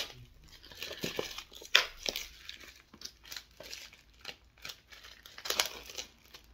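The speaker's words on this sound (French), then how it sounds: "j'ai un peu déchiré le carton" Cardboard packaging of a Fnac edition Doctor Strange 4K Blu-ray steelbook is torn and crinkled open by hand, a close series of irregular ripping and crumpling bursts with short pauses between them.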